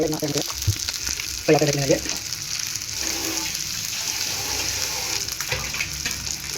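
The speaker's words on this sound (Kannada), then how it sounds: "ಸಖತ್ತಾಗಿ ಟೇಸ್ಟಿಯಾಗಿರೋ ಫಿಶ್ಶು ಫ್ರೈ ಆಗ್ತಾಯಿದೆ." Four fish pieces coated in homemade masala fry in a pan with a loud, constant sizzle and crackle, close by, with a few brief scraping or stirring sounds.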